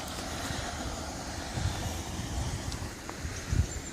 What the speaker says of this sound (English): There's an inlet there with water pouring through, it's the noise you can hear.